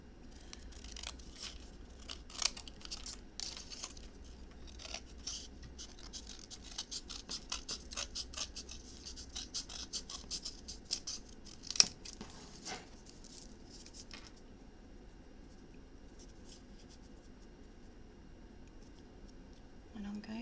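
Material for a handmade book box being trimmed, heard as quiet, close scratchy cuts and snips repeating irregularly for several seconds before fading to near silence, with a soft voice speaking at times.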